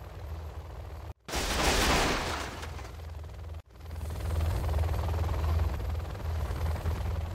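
Helix helicopter unit from Command & Conquer Generals Zero Hour, a steady loud rotor and mechanical drone with a burst of broadband noise near the start, continuing unbroken apart from two brief cuts.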